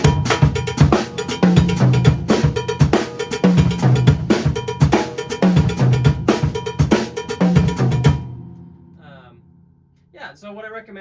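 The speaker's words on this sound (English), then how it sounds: "I really like this variation where I sub the beat 4 snare drum on the second bar for the next rack tom" A drum kit plays a fusion mambo groove with a steady cowbell pattern, the snare on beat four of the second bar swapped for a rack tom. It is loud, busy and repeating, then stops and a voice speaks briefly.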